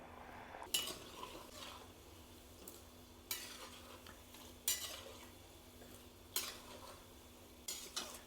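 Jaggery and flour mathis are stirred while frying in oil, giving a soft steady sizzle under sharp metal utensil scrapes and clinks that recur every second or so. No one speaks.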